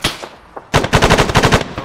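Rapid automatic gunfire bursts in a military shooter game, a faint shot or two followed by a loud, fast rattling volley close by.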